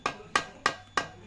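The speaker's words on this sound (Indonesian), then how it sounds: "palunya menggunakan palu kayu" A wooden mallet strikes an Isuzu Panther truck cylinder liner to bend it in a workshop, four sharp evenly spaced knocks about a third of a second apart, close and loud.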